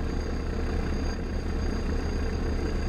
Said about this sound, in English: then you leave the engine running and you get out